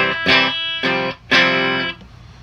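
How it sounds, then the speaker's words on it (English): Three clean electric guitar chords on a Telecaster bridge pickup through a Crate Blue Voodoo amp's clean channel, strummed one after another, bright and ringing with a touch of amp reverb, each let ring for a moment. "That's bridge pickup on a telly."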